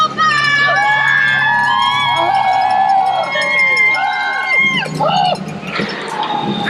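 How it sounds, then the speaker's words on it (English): Workers at a station in a carton processing line break into loud, sustained shouting and cheering as a carton is filled, with several voices yelling together over steady background noise. "once we have a carton full, we yell and go crazy"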